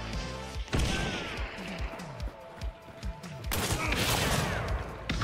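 Rapid bursts of gunfire tear through walls in a first-person shooter video game, close and loud, with a heavy crashing impact midway and continuous game noise throughout.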